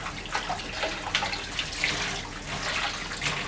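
Water from a tap runs steadily over juicer parts as they are rinsed in a sink, a close splashing flow with small irregular spatters and drips.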